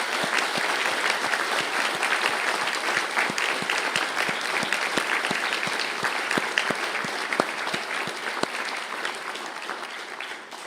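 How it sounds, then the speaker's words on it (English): Sustained applause from an audience at a university conferring ceremony for graduates in Galway, dense steady clapping lasting throughout with sharp individual claps standing out, no talk over it. "stand for a round of applause"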